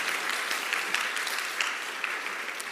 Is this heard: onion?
no